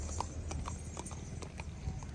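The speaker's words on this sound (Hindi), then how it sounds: "सी गाइस यहाँ पे हॉर्स आ रहा है ना" A horse on a ride at Venna Lake, Mahabaleshwar, sends out a quick run of close, crisp hoof clip-clops in a steady trotting rhythm over quiet outdoor background.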